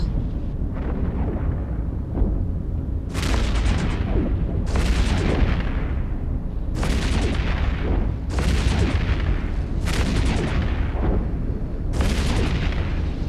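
Barrage artillery from a Cynabal cruiser in the space game EVE Echoes, firing about six loud, booming volleys at a steady rhythm over a continuous low rumble of combat noise.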